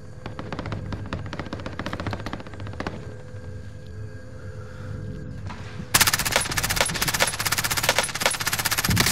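Gunfire in Call of Duty: Modern Warfare, rapid automatic bursts crackling close by in a dense, continuous stream that grows louder and harsher partway through, with no talk over it.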